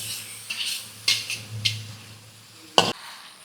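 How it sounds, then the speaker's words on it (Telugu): Chicken with turmeric being stirred in a metal cooking pan for karivepaku chicken fry: a spoon scrapes and clinks against the pan several times over a low sizzle, with one sharp knock near the end. "ఇక మంచిగా కలుపుకుందామండి."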